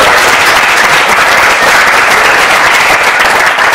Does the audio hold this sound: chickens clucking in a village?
no